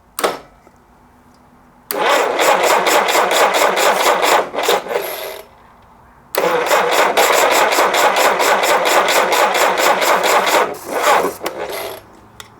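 A rebuilt Jeep CJ5 engine cranks and catches on its first start, two long bursts of rapid rhythmic cranking and sputtering, each separated by quiet pauses, the second running longer before trailing off, loud and close.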